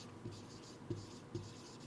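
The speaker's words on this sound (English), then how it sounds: "So let us write here depreciation of equipment." A pen writes on paper, faint soft scratching strokes with a few brief louder scrapes, close but quiet against a low background hum.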